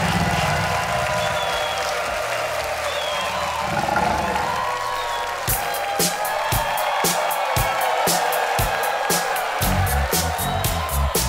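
A comedy stage crowd roars, cheers and applauds for a Michael Jackson impersonator, starting as a loud wash of crowd noise and cheering, then breaking into rhythmic unison clapping on the beat.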